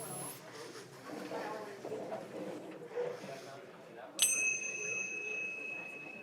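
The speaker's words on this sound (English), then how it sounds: "This is one of our little tricks that we like to use, the Tibetan bell" A Tibetan bell is struck once to close table discussions at a facilitation event, a bright ringing tone with shimmering overtones that sustains and slowly decays after a room murmur of chatter.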